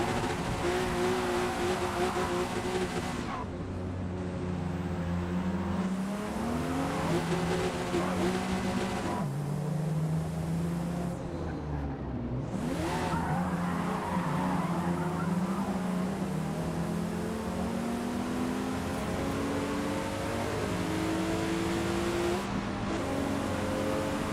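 Video-game car in Forza sliding under the e-brake: a continuous engine whine with shifting revs and long tire-squeal sweeps, loud and unbroken throughout, with brief dips between slides.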